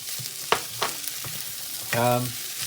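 Curry leaves and mustard seeds frying in a pan of spinach curry with thinly cut carrot, a steady close sizzle broken by a few sharp clicks and scrapes as the pan is stirred.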